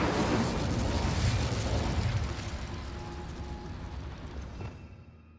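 The Incendio fire spell cast in the video game Hogwarts Legacy bursts out as a loud, broad fiery roar that gradually fades and thins over several seconds, with no talking.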